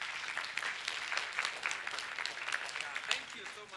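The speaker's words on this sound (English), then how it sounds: "Let's clap for the band, guys." An audience claps for a band at a mental health awareness workshop, a brief steady patter of applause from a modest crowd, moderately distant and fairly soft.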